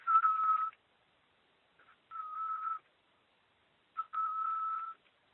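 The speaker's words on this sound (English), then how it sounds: "we start hearing this monotone whistling" Distant monotone whistling heard while walking outdoors: three steady single-pitch blasts separated by short silences, each lasting under a second, faint and clean with nothing else around.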